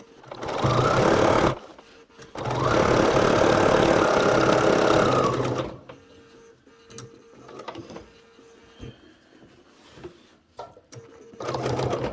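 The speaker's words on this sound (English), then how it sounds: "We'll go ahead and sew that on using 3/8 inch seam allowance." A sewing machine stitches binding onto a quilt at a 3/8 inch seam allowance, running in a short burst and then one long steady whir before falling quiet. It starts up again briefly at the very end.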